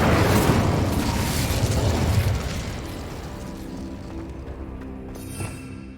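A fire spell cast in Hogwarts Legacy bursts out as a loud, close whoosh-boom that roars for a couple of seconds, then fades into a softer, fizzling tail.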